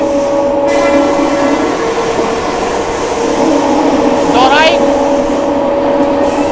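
Amrit Bharat Express train running along the main line past Etawah Junction, a loud continuous rumble of wheels and carriages with steady tonal hum and a short horn-like sweep near the end, a voice talking over it.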